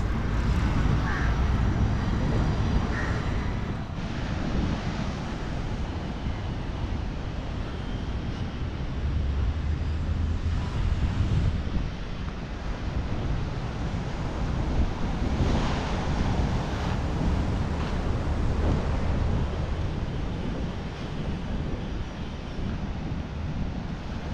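Ocean surf washing ashore against a paved seafront in Colombo, Sri Lanka, in broad swells, mixed with gusty wind buffeting the microphone, continuous and fairly loud throughout.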